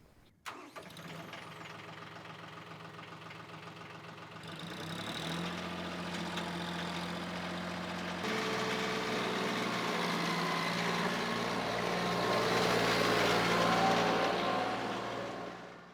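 A TYM 2515H 24-horsepower compact tractor engine cranks and starts, then settles into a steady idle that gradually revs higher, a continuous mechanical drone close by.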